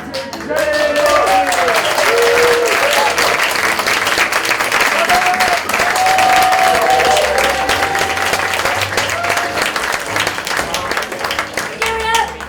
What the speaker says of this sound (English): Please give a round of applause to all the staff here